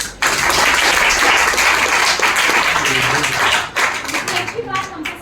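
Loud applause from an audience at a government girls' senior secondary school event in Bahadurgarh, sustained clapping for several seconds that thins toward the end as a voice begins speaking.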